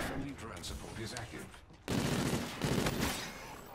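Gunfire from a newly unlocked gun in a Call of Duty hardcore team deathmatch, dense bursts of rapid shots with a brief lull, loud and close, alongside game noise and someone talking.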